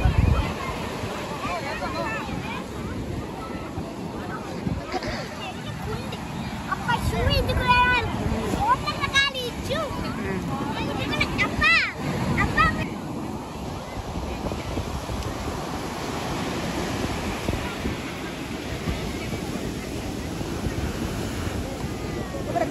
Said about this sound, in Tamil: இந்த அலை கொஞ்சம் சின்னதா வரும்.